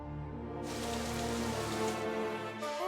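Rain falls in a steady, dense hiss that fills the space evenly, with no voices over it.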